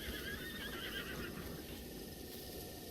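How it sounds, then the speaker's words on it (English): Horses in a Breath of the Wild meadow give a thin, wavering whinny, fairly faint against a steady ambient wash, continuing briefly with no voices over it. "There's also a bunch of other horses around here that we are probably going to spook."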